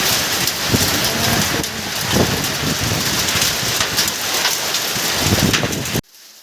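Heavy rain mixed with hail hammers down in a loud, dense, continuous wash with gusty surges before cutting off abruptly near the end.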